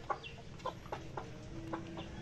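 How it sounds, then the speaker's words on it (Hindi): A white Heera rooster clucks at feeding time over millet, several short separate clucks spread across a quiet farmyard background, moderately close. "मुर्गा वाइट हीरा"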